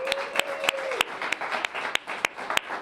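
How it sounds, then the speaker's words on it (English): An audience at a First Friday community arts event in Denver applauds, with a dense wash of clapping punctuated by sharp individual claps, while a faint tone fades out early on. "Let's give them a round of applause for that."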